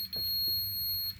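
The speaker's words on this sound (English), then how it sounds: "I usually do a continuity check, so it beeps." A multimeter in continuity mode emits a steady, fairly loud electronic beep held for about a second while its probes test a normally closed switch from a clothes dryer that won't heat.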